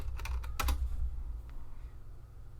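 Quick bursts of keystrokes on a computer keyboard while entering Linux terminal commands, close and clear for about a second, then fading into quiet room hum with one last faint tap.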